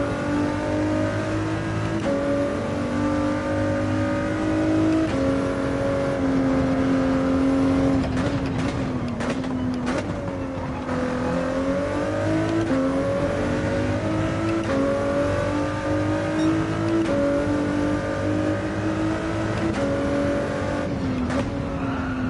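Video game car engine revving and accelerating steadily over about twenty seconds, loud and continuous with pitch rising and falling as the car is driven erratically, no talking.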